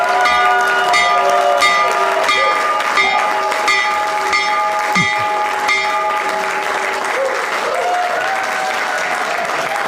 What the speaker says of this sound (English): So opening bell.